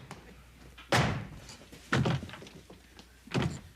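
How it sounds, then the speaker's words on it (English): A door slams shut with a heavy thud, followed by two more loud bangs a second apart, like the door being shaken or the lock clacking, in an indoor sitcom scene with a quiet background. "She locked the door."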